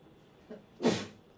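A single sneeze in a classroom, a short sharp burst close by that stands out against a quiet room with faint background murmur.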